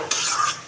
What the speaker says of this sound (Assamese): এইখিনি এতিয়া ধুনীয়াকৈ লৰাই দিব